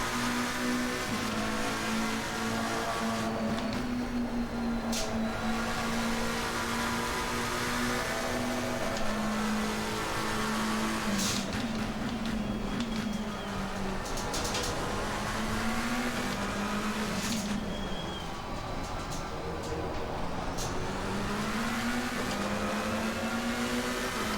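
McLaren 720S EVO race car engine at Silverstone in Assetto Corsa Competizione, a steady high buzzing drone that rises and falls with gear changes and brief shift cracks, loud and continuous throughout.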